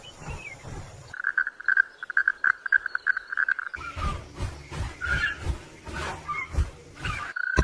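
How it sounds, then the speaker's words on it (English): A poison dart frog in a dense marsh gives rapid, trilling chirps, first a steady buzzing run and then busier overlapping calls against a noisy background. "A colorful poison dart frog sits motionless on a leaf."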